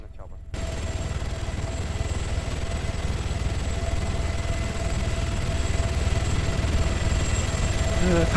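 A helicopter in the military game ARMA 3 drones steadily and loudly throughout after a brief quiet start, with a constant engine and rotor hum and a few faint steady tones riding on top.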